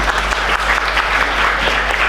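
An audience claps steadily at a road safety prize distribution ceremony, with dense, loud, continuous applause throughout.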